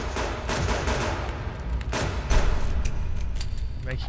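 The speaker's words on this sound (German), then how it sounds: "Wie ein Wahnsinniger schießt der mit der Pistole um sich!" Pistol gunfire in the video game Subsistence: a string of sharp shots scattered over a rumbling background, fairly loud and irregular, with a stronger cluster near the middle.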